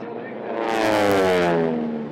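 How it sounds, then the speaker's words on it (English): A loud T6 radial-engine aircraft roars past at an air race, its 109-inch two-blade metal propeller tips going supersonic, swelling to a harsh, crackling peak and then fading slightly, with no voices. "The crackling noise you hear are the propeller tips of that 109-inch metal 2-blade"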